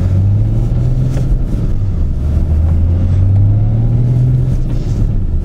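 A deep, throbbing engine drone with a low exhaust rumble from an Audi A6 C6 with a nearly straight-through exhaust and no rear mufflers, steady with slight rises and falls, heard from inside the car.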